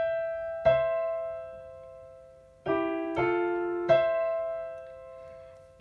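The right-hand piano part of a theme plays as a short phrase of separate two-note chords, struck at an uneven, songlike pace, each ringing and fading cleanly in a quiet room.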